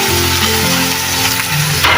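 Hot boiled vegetables tipped into a hot pan for a Chinese-style fried rice and vegetable curry, giving a loud, steady sizzle with a faint tonal hum beneath it, no talking.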